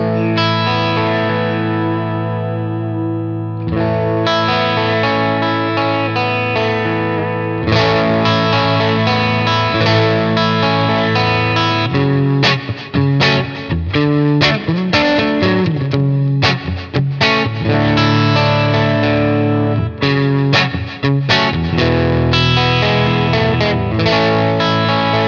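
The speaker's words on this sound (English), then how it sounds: "So we're going now actively for a Vox kind of sound." Electric guitar through a Boss Katana amp dialed to a chimey Vox-style tone, loud strummed chords and ringing notes with effects-unit sheen, a short pause near four seconds, then continuous bright playing alone.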